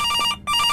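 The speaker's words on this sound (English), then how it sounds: "All right, well, that's task one, answer the phone." Telephone ringing in the video game The Night Before Christmas, a loud electronic bell trill that cuts out briefly and then resumes, heard alone with no talk.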